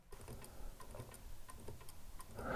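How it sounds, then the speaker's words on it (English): Antique pendulum clock at a folk park, just set going: a steady, even ticking close by and fairly quiet, with soft mechanical clicks and a slightly louder knock at the end. "And I've turned this slightly, and again until it's ticking evenly."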